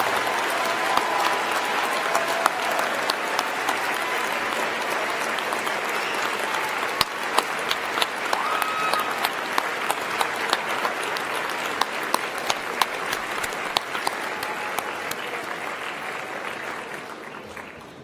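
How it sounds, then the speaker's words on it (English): Sustained applause fills a law school commencement ceremony as graduates stand and clap for their supporters, a dense, even roar of many hands from a large crowd lasting throughout with no speech. "Graduates, please stand and join us in applauding your supporters who are here today."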